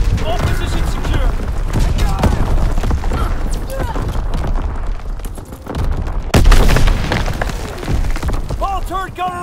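An artillery barrage in the WWII shooter Call of Duty: WWII, with loud booms and rattling gunfire over several seconds and radio-style voices talking throughout.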